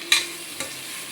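Two quick scraping stirs of a utensil in a pan of mutton masala, with a faint sizzle underneath.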